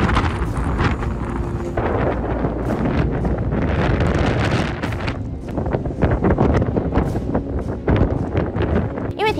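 Fierce blizzard wind during North America's deadly bomb-cyclone winter storm roars loudly and continuously, with gusty buffeting against the microphone throughout and no voices.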